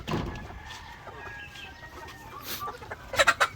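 Barred Rock chickens cluck near a farm coop, with soft scattered calls over low background noise and a louder burst of clucking near the end.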